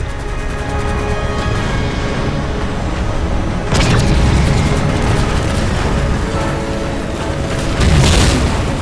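Heavy explosions from ship cannons being destroyed in the video game Halo 4: deep, booming blasts and rumbling debris that roll on continuously, with two sharp, louder bursts partway through and near the end.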